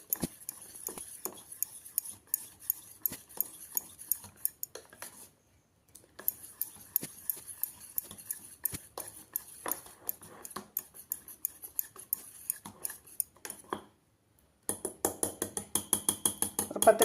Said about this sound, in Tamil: இந்த வேக வச்ச வெங்காயத்தை போட்டுக்கலாம். வெங்காயம் மிளகாய் எல்லாம் போட்டு கலக்கிக்கலாம்.